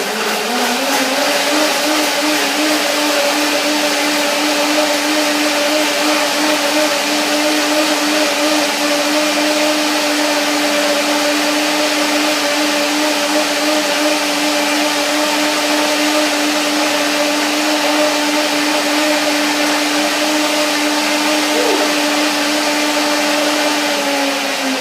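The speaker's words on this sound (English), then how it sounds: "A strong blender like this one" Strong blender whirring through a wild greens salad dressing, a loud, steady motor whine held for about twenty-five seconds without pause, no voices.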